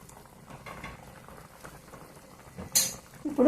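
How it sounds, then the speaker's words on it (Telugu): Taro root curry simmers in a pot over medium heat, soft bubbling and faint popping with a couple of louder clinks near the end. "ఇంకా ఒక 10 నిమిషాలు మీడియంలో పెట్టుకొని ఉడికిద్దాం."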